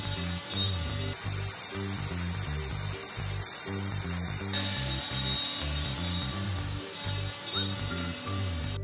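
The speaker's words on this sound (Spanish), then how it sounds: "Esto lo mandamos directamente a la máquina a cortar." A machine with a milling bit cuts personalized bottle openers, giving off a steady, rapid mechanical chatter with a clicking, ratchet-like pulse and a high whine, continuous and fairly close.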